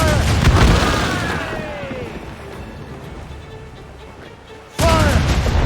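Ship cannons firing in Assassin's Creed Rogue, a heavy boom at the start and another near the end over a rushing sea-battle din, with shouting voices mixed in.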